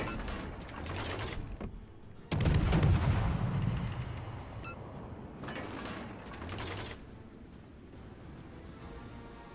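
Heavy battleship main-battery salvos boom in a World of Warships: Legends naval battle, one big deep blast followed by rumbling, mechanical turret noise and further distant shots.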